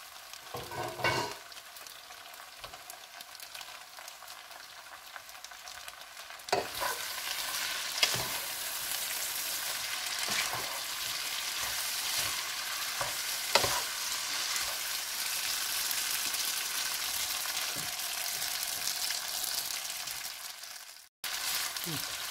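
Spaghetti goes into a pan of frying salted lardons and is stirred. The sizzle is steady and close, broken by several scraping stirs, with quiet talk at times.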